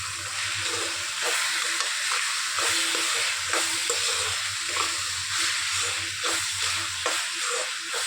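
Biryani masala with green chillies, chilli powder and pepper powder sizzles and fries in a pan while being stirred, a steady hiss with soft scraping stirs recurring throughout, fairly quiet and close.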